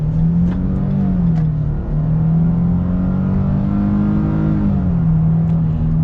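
A 2022 Nissan Frontier Pro-4X mid-size pickup truck accelerating from a start, its engine a steady, loud, close drone that rises and falls in pitch as it pulls away, with no talking.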